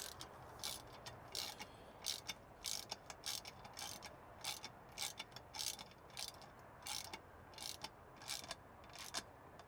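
A hand ratchet clicks in repeated quick bursts while tightening a part on a 632 engine fitted with an F2 ProCharger, the strokes close and fairly faint in a steady back-and-forth rhythm.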